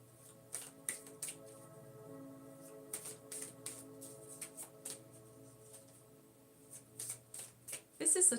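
Fairy oracle cards shuffled by hand in a string of quick papery flicks and riffles, close and soft, with a voice talking quietly underneath.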